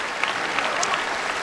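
A basketball crowd at an NCAA tournament game between Norfolk State and Florida applauds steadily as player Kyle O'Quinn takes a seat, a dense sustained clapping with a few sharper claps standing out.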